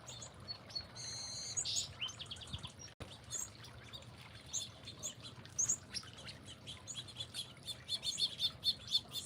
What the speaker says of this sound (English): you just hear all the birds singing